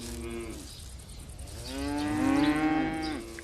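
Grazing cattle moo nearby in an open pasture, one long lowing call followed by a louder, drawn-out second moo over soft outdoor background noise.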